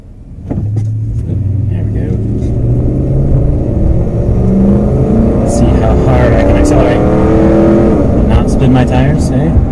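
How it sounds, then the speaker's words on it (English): A car accelerates hard from a stop at a light, engine note rising steadily and staying loud and close for the whole stretch, with tyre and road rumble underneath. "if I can accelerate that hard and not spin my tires"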